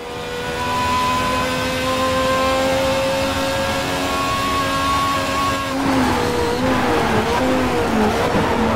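Ferrari race car engine in a racing video game roars at high, steady revs, then drops through downshifts into a corner with burbling, shifting engine pitch, loud and continuous.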